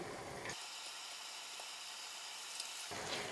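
Two crucian carp fry in a generous pool of hot oil in a large skillet, a loud, dense, unbroken sizzle that swells briefly at the start and end.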